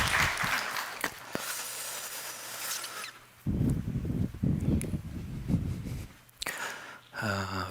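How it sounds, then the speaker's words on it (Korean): A church congregation applauding during an Easter Sunday service, a broad wash of clapping for about three seconds that gives way to quieter rustling and shuffling in the hall. "고마운 마음을 담아서 하나님 앞에 영광의 박수 하시겠습니다"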